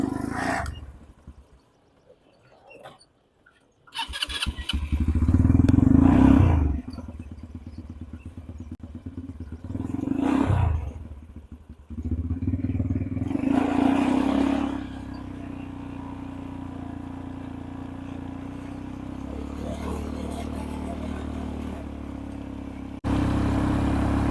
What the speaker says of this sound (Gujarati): તો ફાઇનલી ડર્ટ બાઇકમાં બેસી ગયા છે